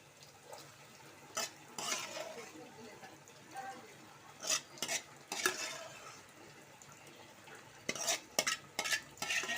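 Boiled prawns, precooked with turmeric and salt, are stirred into a tempering for prawn curry, giving intermittent scraping and clattering strokes over a soft continuous frying hiss with occasional faint voice.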